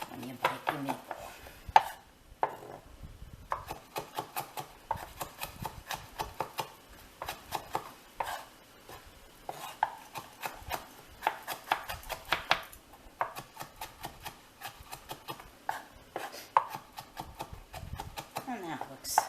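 A kitchen knife minces garlic for meatballs on a cutting board, producing quick, irregular chopping taps in close, uneven bursts while a person talks over them.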